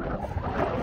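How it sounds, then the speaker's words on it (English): Strong wind blowing outdoors on a cold snowy day, a steady low rumbling buffet of gusts across the microphone, loud and continuous. "There's a pretty strong wind today."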